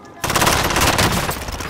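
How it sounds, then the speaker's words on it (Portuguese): Rapid automatic gunfire in Call of Duty: Modern Warfare erupts suddenly and continues as a loud, close, sustained burst. "Tô levando tiro."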